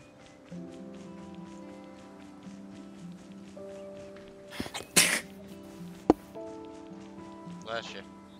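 A single sharp sneeze bursts out over a quiet background of soft music tones, followed moments later by a brief click and a faint second breathy sound.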